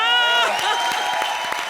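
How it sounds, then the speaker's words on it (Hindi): Studio audience applause during a Kapil Sharma comedy show, a loud burst of clapping and crowd noise that swells over a fading tonal sting. "जोरदार तालियां।"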